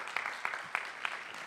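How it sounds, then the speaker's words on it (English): Audience at a startup pitch event gives founders a round of applause, a thin scattering of claps with a few distinct sharp hits roughly every third of a second, fairly faint and short. "I want to have like a round of applause for our founders who will be here pitching today"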